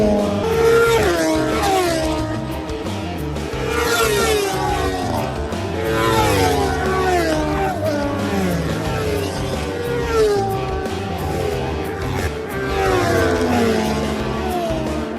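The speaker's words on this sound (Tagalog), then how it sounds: "malakas na yung tunog ng mga motor nila" Sports bike engines roar and rev around the Clark International Speedway racetrack during a track day. Loud, rising and falling whines sweep past repeatedly as several bikes accelerate and downshift, filling the air without pause.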